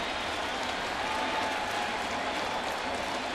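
Stadium crowd at a Chicago White Sox at New York Yankees baseball game, a dense continuous roar of cheering and clapping filling the air as fans urge on a strikeout.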